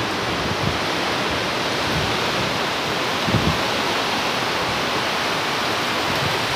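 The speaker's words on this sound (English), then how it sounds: "It is so windy out here." Loud, constant roar of strong hurricane wind in St. Augustine, Florida buffeting the microphone, broadband and unbroken, with a few low gust thumps.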